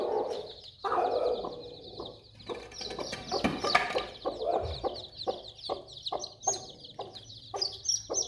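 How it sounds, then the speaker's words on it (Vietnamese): A brooding hen clucking and grumbling, with repeated rhythmic clucks and throaty calls, close and fairly loud. Other fowl sound faintly in the background. "Gà vẫn ấp như này"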